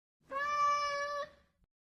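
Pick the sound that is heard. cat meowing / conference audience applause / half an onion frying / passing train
cat meowing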